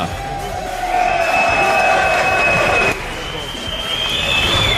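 Boxing arena crowd at a WBC Asian Boxing Council super bantamweight title fight reacts after the stoppage, a broad roar of cheering and babble with whistle-like tones, steady and loud under an announcer's voice.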